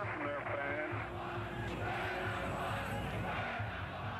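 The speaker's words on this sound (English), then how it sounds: "The Montreal Expos get a cheer from their fans." Baseball crowd cheering for the Montreal Expos in 1969, a broad roar of many voices held steady throughout, fairly loud and filling the space with no break.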